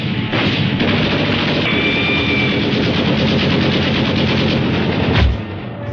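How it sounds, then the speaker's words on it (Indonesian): Sustained automatic weapon fire rattles loudly and continuously in a dramatized wartime night raid on sleepy guards, a dense rapid barrage lasting several seconds and ending with a heavier boom. "Dengan senjata otomatis, Letnan Widodo menembaki penjaga yang lagi pada nundutan nahan ngantuk."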